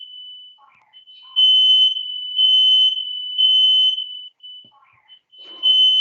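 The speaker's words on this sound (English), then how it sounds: "that's actually the smoke alarm going off in my house" A household smoke alarm goes off indoors, blaring a loud piercing tone in repeated long bursts separated by short gaps, with faint chirps and some movement between blasts.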